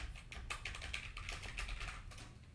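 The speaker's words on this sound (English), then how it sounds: "I'm going to go ahead and type in these 2 words" Rapid typing on a computer keyboard, a steady run of close, crisp key clicks with no voices.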